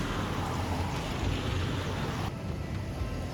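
Heavy monsoon-like rain pours down in Colombia, a dense, continuous roar of falling water that stays close and loud throughout, easing slightly near the end.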